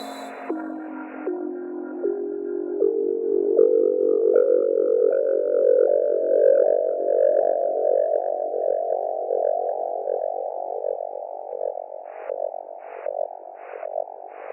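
Moon Echo, a moon-bounce echo plugin by AudioThing and Hainbach, processes a sequence of stepped tones that smear into a long, swelling, reverberant wash, ending with a few short repeated pulses.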